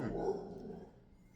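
A dog lets out a short bark or growly woof, muffled and moderately distant, in a home kitchen while a summer cocktail is mixed.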